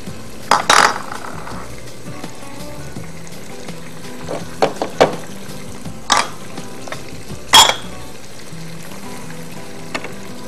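Tomatoes and tomato puree sauté in a pan for a mutton dish, a soft steady sizzle broken by several sharp scrapes and clanks of a spoon stirring against the pan.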